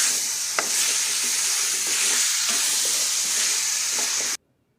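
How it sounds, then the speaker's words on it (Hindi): Small-cut potatoes, about a kilo, fry in a pan with a steady close sizzle and a few spoon-stirring scrapes, then stop abruptly into silence near the end. "आलू के साथ अब हम इसको भूनेंगे"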